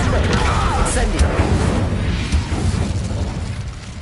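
An Incendio fire spell is cast in Hogwarts Legacy, a loud whooshing burst with crackling pops and thumps spread over a dense, rumbling game soundscape.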